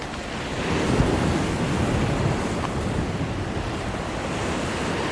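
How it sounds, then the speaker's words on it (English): Ocean surf rolling and breaking against a rocky jetty, a steady loud wash of waves with wind buffeting the microphone throughout and no voices. "beautiful waves"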